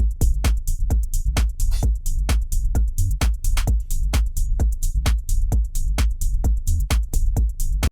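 Two layered bass lines with a deep super sub underneath pump out a steady, punchy electronic groove, with regular kick-driven pulses throughout and no voices.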